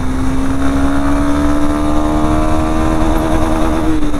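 A Honda Hornet 2.0 motorcycle ridden in third gear, its engine holding a steady high-revving drone with a strong, unbroken tone throughout, loud and close with no talk over it.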